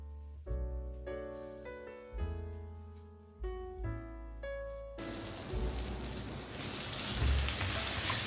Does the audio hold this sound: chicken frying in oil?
yes